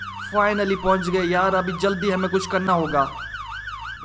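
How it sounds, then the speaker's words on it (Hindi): Wailing emergency siren from a vehicle in the Roblox Brookhaven game, sweeping up and down loudly for about three seconds and then fading, with a person talking over it. "ये सायरन की आवाज है"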